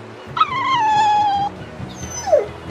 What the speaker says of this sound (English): Dogs? Look, lizards, no problem. Walking hunks of armor I can deal with, but dogs? On my ship?